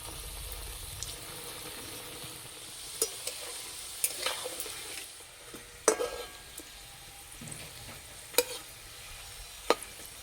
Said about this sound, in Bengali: রোলগুলো ভেজে নেব। জোরে জাল দিয়ে ভাজলে না উপরটা ভাজা হয়ে যাবে